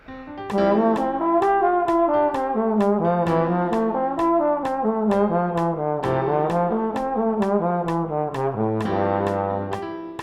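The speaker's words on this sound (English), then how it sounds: "Arpeggio up, scale down, works always very good." A melodic instrument runs steady note patterns, climbing through broken chords and stepping back down in scales, with a clear, even rhythm and no voices.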